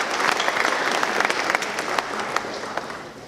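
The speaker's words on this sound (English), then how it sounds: "Let's give them a round of applause." Graduation audience applause at a high school ceremony, a full crowd clapping steadily and fairly close, with a few sharper individual claps standing out near the end.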